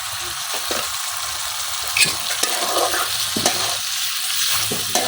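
Fish head being sautéed for a bottle gourd dish with green chillies, a steady frying sizzle with occasional stirring scrapes and clinks of a utensil in the pan, close and continuous, no voices.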